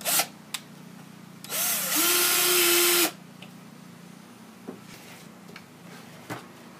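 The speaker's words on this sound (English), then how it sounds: "if you have an electric drill with a Phillips head on it, that makes it all the more faster." An electric drill fitted with a Phillips head drives screws while hanging a birdhouse, giving one steady whirring burst of about a second and a half, close and loud, with soft handling clicks before and after.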